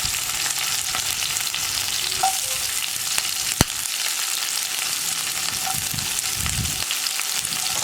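Chopped onion and green chilies sizzle steadily in hot oil for a Kerala cherupayar and chena thoran, a continuous close frying hiss with a few soft stirring scrapes and no talking.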